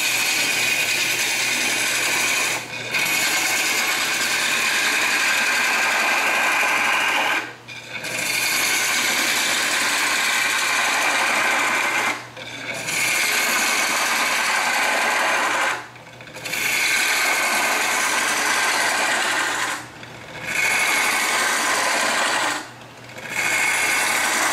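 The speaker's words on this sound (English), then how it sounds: "To drill that hole through the center on this end" A wood lathe drills a hole through the center of a dry wooden piece for a coin funnel, giving a steady, close, loud whirring grind that stops briefly every few seconds before resuming.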